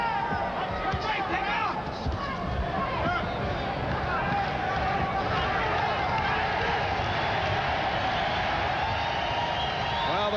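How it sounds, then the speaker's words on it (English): A boxing arena crowd at the Vinny Pazienza vs Greg Haugen fight chants and roars for Pazienza, a dense, continuous wall of voices with a commentator speaking over it. "the crowd trying to get into it with the chant for Vinny Pazienza"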